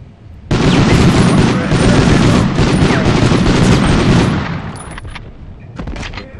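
Dense, sustained burst of rapid gunfire from Medal of Honor on PS1, loud and continuous for several seconds before tapering into scattered shots and clatter.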